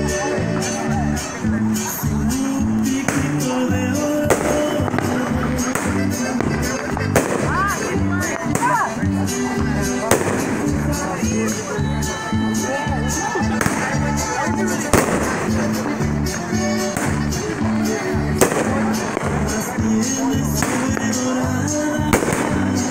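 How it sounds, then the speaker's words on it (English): A Brothers Pyrotechnics Speed Trap 13-shot firework cake, 350 grams, fires a dense, steady run of loud bursts and crackles for the whole stretch, with people's voices faintly mixed in. "Speed Trap 13 Shots by Brothers."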